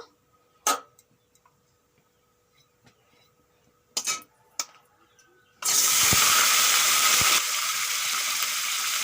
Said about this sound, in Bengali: তেল গরম হয়ে গেছে এখন পেঁপেগুলো ভেজে নেব